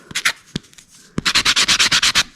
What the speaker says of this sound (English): I'll sand a little bit off around the corners also to make it just look a little